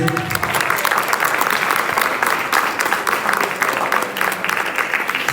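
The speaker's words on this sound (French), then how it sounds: "remercier les dames de Léogane que je vous demande d'applaudir chaudement" Warm applause at a launch ceremony for Léogane women, loud continuous clapping from a sizeable crowd filling the whole stretch.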